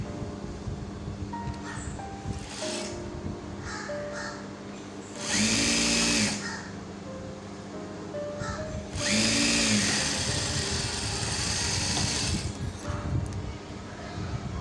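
A sewing machine stitching fabric for a child's puff-sleeve top runs in two short bursts of steady whirring, with quieter handling, rustling and faint clicks between them, close up and without speech.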